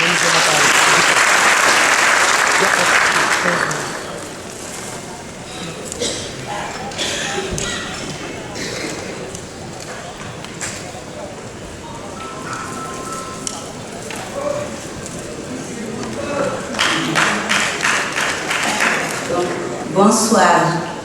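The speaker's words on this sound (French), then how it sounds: "S'il vous plaît, madame, sous vos applaudissements." Audience applause at a ceremony starts loud, thins after a few seconds into scattered claps, shuffling and murmurs, then swells again with rhythmic clapping near the end.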